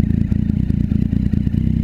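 A car fitted with a new exhaust revs and burbles in a rapid, rough pulsing rhythm, loud and close, with no talk.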